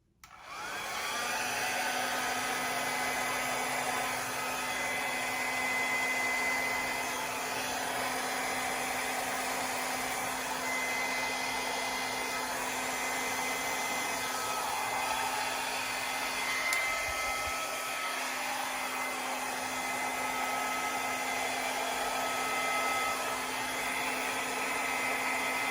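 Hair dryer blowing steadily and loudly across a large metallic acrylic paint pour in gold and copper, a continuous whine holding for nearly the whole stretch with only slight shifts as the airflow is moved.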